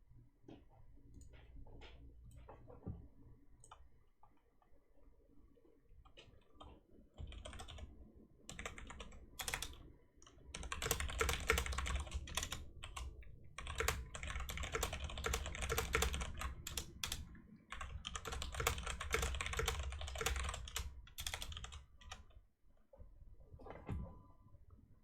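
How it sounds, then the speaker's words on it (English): A computer keyboard is typed on during a break in a game series broadcast, with scattered clicks building into long, dense bursts of rapid key presses, close and crisp with no talk. "A little bit of keyboard typing ASMR."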